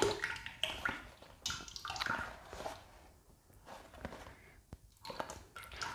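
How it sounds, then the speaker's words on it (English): Buttermilk poured from a carton into a bowl, a soft wet glugging and splashing that comes in uneven spurts and drips at close range. "I'm just going to empty the remaining carton of my buttermilk into"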